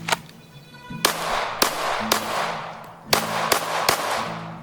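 Sharp pistol shots crack out during a cold-start shooting drill with no warm-up, about seven quick reports in a rapid string after a quiet start, each snapping loud and close with a short ringing decay.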